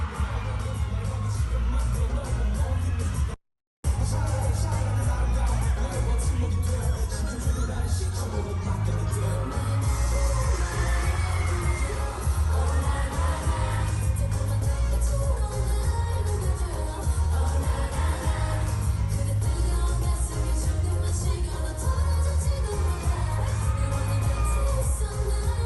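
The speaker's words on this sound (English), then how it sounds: "Listen to that crowd." Loud concert crowd at a show during a tour at The Wiltern, cheering, whooping and yelling steadily throughout over a booming low beat, with one brief dropout early on.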